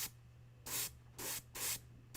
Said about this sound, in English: a Badger Patriot 105 with a nice fat needle nozzle setup. So I don't really have clogs with this airbrush in general.